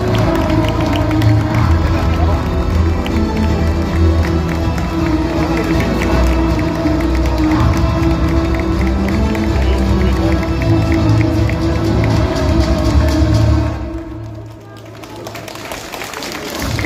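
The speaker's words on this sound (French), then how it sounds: "On applaudit très très fort." An audience at a cosplay parade during a Japan pop culture show in St-Malo bursts into sustained loud applause and cheering, a dense wall of clapping and shouts that dips briefly near the end before swelling again.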